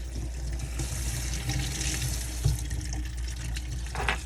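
Water draining out of an ultrasonic cleaner after its hose is unscrewed, a steady running gush into a sink, close and fairly loud with no talk.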